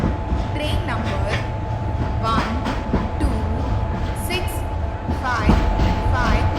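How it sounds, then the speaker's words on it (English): The 12655 Mahamana Express stands at platform 2 of an Indian railway station, its carriages rumbling and clattering steadily and loudly under indistinct voices and station bustle. "12655 Mahamana Express right at platform number 2"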